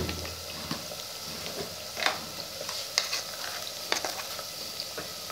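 Onions softening in a clay pot with a steady, close sizzle and occasional stirring scrapes of a spoon across about five seconds, no voices.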